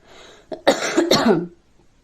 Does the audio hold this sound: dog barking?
no